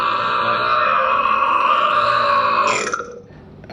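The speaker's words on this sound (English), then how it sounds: "Right now we're sampling some burps for Buddy at dinner." A long, loud, drawn-out burp rumbles on for nearly three seconds, then breaks off into quiet.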